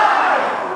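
Wrestling crowd roaring in response to kicks during a match, a loud dense burst of cheering and shouting from many voices, sustained through a brief moment.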